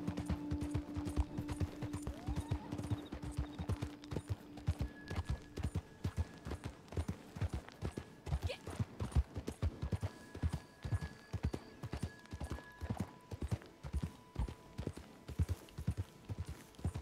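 Horse hooves clip-clop steadily and continuously on the ground in the Red Dead Online game, a quick repeated rhythm close by, with faint ambient tones and occasional soft background sounds.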